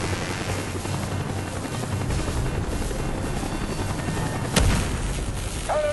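Helicopter rotor drone from a Call of Duty Black Ops mission over the Gulf of Mexico, a steady loud thrumming wash that fills the whole stretch, with a sharp crack or impact near the end.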